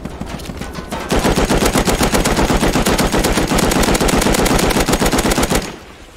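Sustained machine gun fire in a video game, aimed at a patrol helicopter near a giant excavator, rattles in one long rapid loud burst of close shots for about four and a half seconds, then cuts off.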